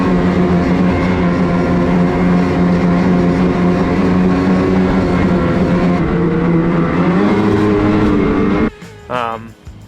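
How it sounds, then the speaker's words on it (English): Lynx Rave RE snowmobile engine droning loud and steady while riding, with a loose panel rubbing and rattling against the foothold, ending in a brief drop and short burst. "So it kind of makes this weird rattling noise when I'm riding."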